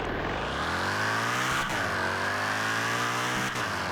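A car engine in the Roblox game Fix it Up revs hard through a 0 to 60 run, its rising pitch climbing steadily with two brief gear-shift dips, loud and close with no talk over it.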